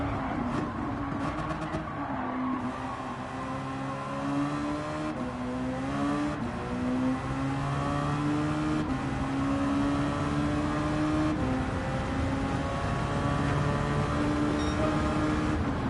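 Race car engine in Gran Turismo 7 at Brands Hatch, droning steadily at high revs with pitch climbing through the gears and brief dips at shifts, loud and continuous throughout with no talk.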